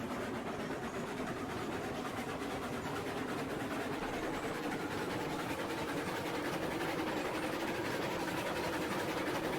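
A train in the Railroads Online video game labors uphill with a continuous low, heavy engine rumble and faint rail noise, steady and moderately loud with no talking.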